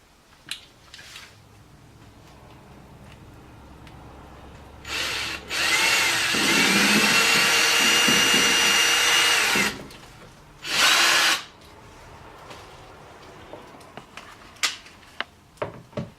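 Power drill driving screws to mount a new range hood over a stove and oven, heard as one sustained whirring burst of about four seconds followed by a second shorter burst, with quiet handling clicks around them.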